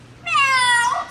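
A zoo bird mimics a cat's meow: one clear, close, rising-and-falling mew lasting under a second, standing alone without talk.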